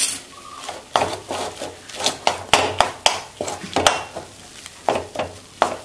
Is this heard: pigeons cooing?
no